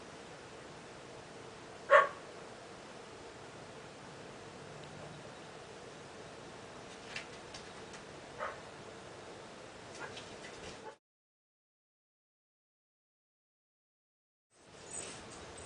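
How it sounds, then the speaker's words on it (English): A dog named Maggie barks once sharply in the distance indoors, followed by a few fainter scattered yips over quiet room noise before the sound cuts out. "I think somebody's here because Maggie is barking."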